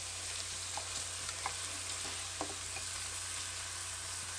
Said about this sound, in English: to saute the veggies